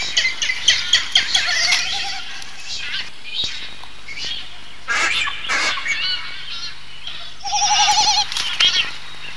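Frigatebird calls, probably at a seabird colony, come as a bright, rapid rattling series at the start and again near the end, with scattered squawks and wing-flap noises between them against faint wind.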